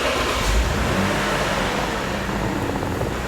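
A Lexus engine runs and revs, a loud, continuous close-up roar that holds steady over a few seconds with no talk.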